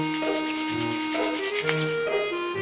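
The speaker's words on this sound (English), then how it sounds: "Try rubbing your hands together faster." Hands rubbed together quickly, giving a fast, steady run of dry, brushing swishes close by, with music playing underneath.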